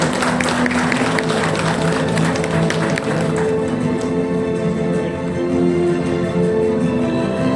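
An audience at an award ceremony for computer training centres claps, a dense burst of applause that fades into scattered claps and background murmur over several seconds.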